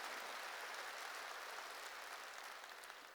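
Church congregation applauding together, a steady dense wash of clapping that holds throughout and tapers slightly toward the end, with no talk over it.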